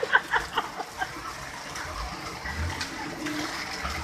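Heavy monsoon floodwater rushes through Mumbai streets, a steady loud gush of running water with a few sharp splashes or knocks at the start and a faint voice underneath.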